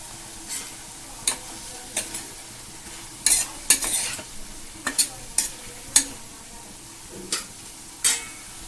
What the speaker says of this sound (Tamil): ரொம்ப வதங்கணும்னு அவசியம் இல்லை கொஞ்சம் வதங்கட்டும்